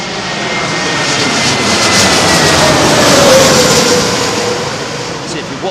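A China Southern Boeing 787-9 jet arrives at Heathrow on a blustery evening, a loud broad roar that swells toward the middle as it passes close, then fades slightly.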